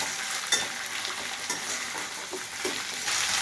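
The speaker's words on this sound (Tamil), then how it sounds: "இதை நல்லா வதக்கிக்கலாம்." Unpeeled sweet potato slices sautéing in a pan for varuval, a constant soft sizzle with occasional spatula scrapes and taps as they are stirred, close but fairly quiet, no voices.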